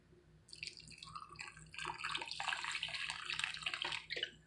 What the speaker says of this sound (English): So I'm going to add a little bit of water to it